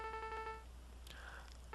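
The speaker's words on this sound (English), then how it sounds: "I have no other idea why my phone keeps going off" A mobile phone rings with a short burst of repeated electronic tones, clear and fairly close, before the sound gives way to faint background noise.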